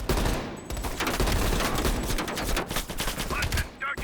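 Heavy machine gun fire in Call of Duty Black Ops Cold War rattles in dense, rapid bursts close and loud, nearly continuous, broken by a brief gap at the start and another near the end.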